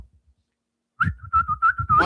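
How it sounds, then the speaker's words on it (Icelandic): A person whistles a short, steady tune of repeated mid-pitched notes, close and clear after a second of near silence. "Er það að kenna fólki að flautu?"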